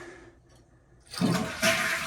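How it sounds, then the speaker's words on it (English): Toilet flushed with the tank cover off, during a fill valve repair: a quiet start, then a loud rushing gush of draining water that surges twice over about a second, close by with no talk. "then I'll simply flush the toilet"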